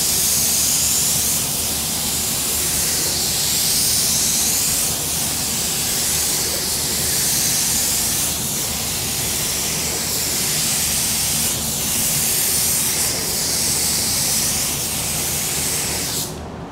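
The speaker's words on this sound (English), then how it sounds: "Now we'll just spray that first coat." A loud, steady hiss of a spray gun blasting clearcoat onto a car door continuously, with brief rhythmic pulses as the spray passes, cutting off abruptly at the end.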